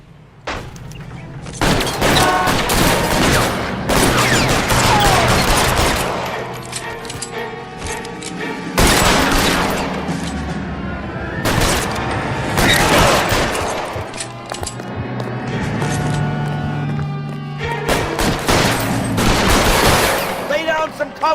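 Heavy gunfire in a shootout in the video game L.A. Noire, loud overlapping bursts of rifle and pistol shots in waves with brief lulls, echoing close by.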